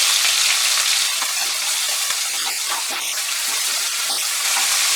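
Chopped onions fry over medium heat in a pan, giving a steady bright sizzle with wet crackles and a few brief clinks, fairly loud and close.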